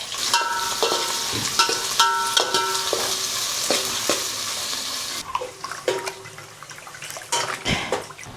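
Onion and green chilli frying in hot oil with curry leaves for a village-style country chicken curry. A loud, bright sizzle carries repeated clanks of stirring and softens partway through, with no voices.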